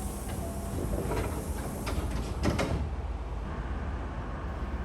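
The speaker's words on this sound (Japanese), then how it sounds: "電車の扉が閉まります。" Sliding doors of a Hankyu commuter train bump shut at a station, a short thud and hiss of door motors over steady carriage hum, fairly close, with no talk.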